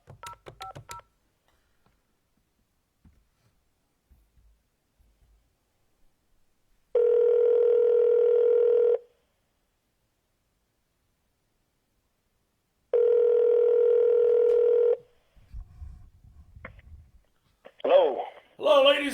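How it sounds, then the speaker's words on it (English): A telephone call is placed to a guest on a sports podcast: two steady two-second electronic ringing tones sound six seconds apart amid long silence, followed by faint voices and line noise. "Let's go ahead and get Ricky on the phone here"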